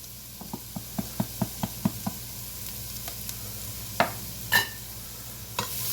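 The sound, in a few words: stirring spices and vegetables in a pot for minestrone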